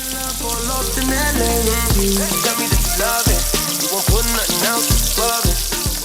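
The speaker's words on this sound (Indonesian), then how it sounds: "si tempe tahunya ini juga akan digoreng dengan tepung kremesannya" Battered tempeh and tofu frying in hot oil with crispy kremesan flour batter, a loud continuous sizzle with music playing over it throughout.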